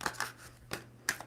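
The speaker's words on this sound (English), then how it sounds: "2 more shuffles for Gemini." Tarot cards shuffled by hand in a short burst, giving a few quick, crisp riffling rustles with brief pauses between them, close up and fairly quiet over a steady low hum.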